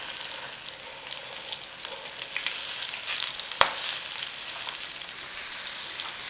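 Flour-coated, seasoned pork frying in a pan, a steady close sizzle with crackling spits throughout and a sharp clack of a utensil midway.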